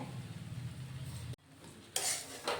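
Besan (gram flour) being stirred into ghee in a pan over a low gas flame for besan barfi, giving a steady scraping stir that pauses, then soft sizzling bursts near the end.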